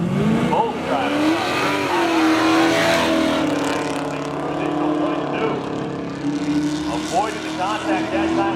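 Engines of a 1985 Chevy Camaro and a 1997 Pontiac Firebird roar at full throttle in a spectator drag race at Seekonk Speedway, a loud, sustained wall of revving with shifting pitch under a voice talking.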